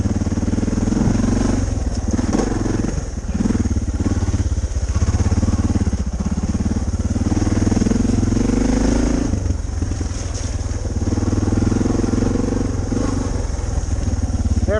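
Suzuki DR650 motorcycle with aftermarket Cogent suspension ridden steadily, its single-cylinder engine droning loud and close with constant wind rush and slight clatter, no talking.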